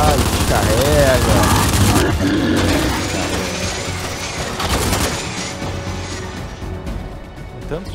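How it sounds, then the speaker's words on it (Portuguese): Dense automatic gunfire rattles loudly at first in a video game played on an Xbox Series S, then thins into scattered shots and booms, with voices talking over the action. "Tanto tiro que tem que dar que fica sem munição."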